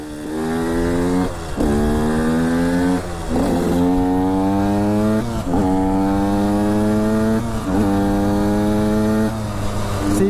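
A KTM 125 SX motocross dirt bike engine revs repeatedly, rising in pitch with each twist of the throttle before dropping back, loud and close.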